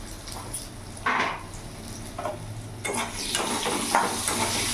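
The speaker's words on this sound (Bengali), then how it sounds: "সেই আলুগুলো আমি ভেজে নেব।" Potato pieces fry in oil with salt and turmeric for a rohu fish curry, a close sizzle broken by scraping stirs and spatula knocks against the pan.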